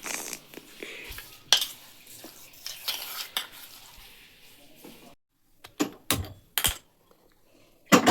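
A spoon scrapes and clinks against a pot while cumin powder is stirred into crushed lemon peel pickle, irregular close metallic taps with quiet gaps between.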